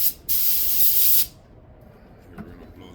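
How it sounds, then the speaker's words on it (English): Compressed air blower blasting aluminum chips out of a stripped head bolt hole in a 5.3 LS aluminum engine block, one loud steady hiss lasting about a second, then quiet shop background. "We're gonna see if we can blow out these aluminum chips."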